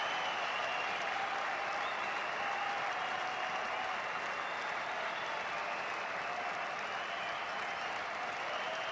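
A hockey arena crowd applauds steadily for Pierre Houde's Foster Hewitt Award presentation, a dense, sustained wash of clapping from a large audience heard at a distance.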